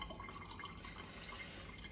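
Liquid poured into a mixing bowl while making bao bun dough, a quiet, steady trickling and splashing that runs the full length without a break and has no voices over it.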